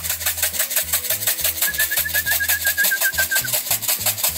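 Young racing homing pigeons flying around their loft, with steady, loud, rhythmic cooing and bird calls repeating throughout.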